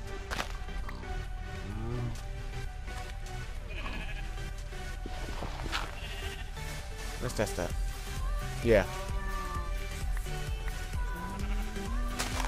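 Sheep bleat several times in a video game, under people talking, with soft footsteps and game background sounds.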